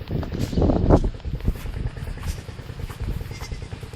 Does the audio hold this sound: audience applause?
no